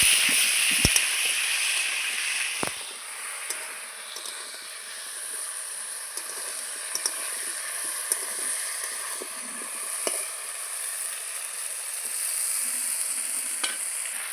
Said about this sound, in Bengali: লবণ হলুদ দিয়ে খুব সুন্দর করে একটু আমি ভেজে নেব।